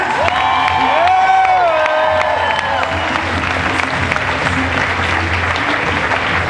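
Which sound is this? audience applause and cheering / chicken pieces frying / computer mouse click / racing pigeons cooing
audience applause and cheering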